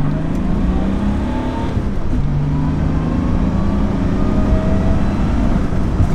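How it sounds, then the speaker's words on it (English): BMW E36 Compact with a swapped 330d diesel engine pulling hard in second gear, a loud, steady, low drone that holds continuously from start to finish with no talk over it. "Right, this is a nice second gear pull."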